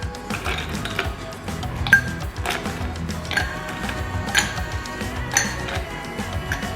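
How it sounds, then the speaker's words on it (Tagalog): Ice cubes clink and rattle into a glass holding a muddled lime, cucumber and mint mojito, with several bright clinks over steady kitchen background noise. "Then lagyan natin siya ng ice."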